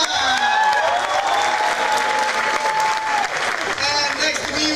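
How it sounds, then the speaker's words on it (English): Audience applause for a juggler at the European Juggling Convention 2004 in Carvin, with loud, continuous clapping from a crowd and voices and whistles mixed in throughout. "Yeah, come on, give him an applause"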